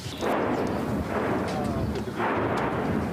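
Heavy artillery and tank fire pounding a frontline combat area in Ukraine, booming blasts that swell and roll on as a loud, continuous rumble, in two surging waves, with no talking.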